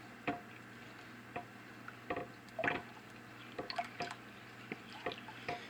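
A spoon stirs a rice pudding mixture with sugar in soft, faint, irregular wet clicks and squishes, close by with no talking.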